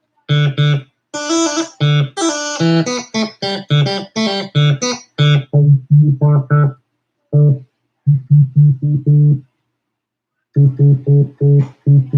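Synthesizer oscillator notes played in quick bursts of buzzy, harmonic-rich tones, some brighter and higher, separated by short pauses and one longer gap.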